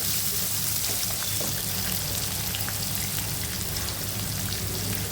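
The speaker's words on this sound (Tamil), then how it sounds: "ஒரு மீடியம் சைஸ் வெங்காயம் கொஞ்சம் பிங்க் கலர் ஆகிற வரைக்கும் வறுத்துக்கலாம்" Onion frying in a pan, a steady dense sizzle and crackle of oil running evenly throughout, close and continuous with no voices.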